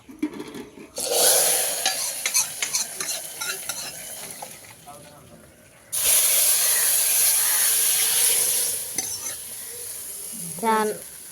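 Hot tempering is poured into Kerala moru curry (spiced buttermilk curry), with loud bursts of sizzling hiss and stirring scrapes close by, in two main surges separated by a quieter spell, with brief talk in between.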